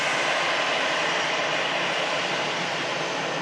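An EasyJet airliner arriving from Nice roars steadily in the evening, a loud, sustained broadband engine rush with no talk.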